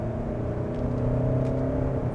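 A Hyundai Palisade with a 2.2-liter diesel engine and an 8-speed automatic gearbox works steadily through its gears, giving a continuous close engine drone and whir with small pitch changes and no talking.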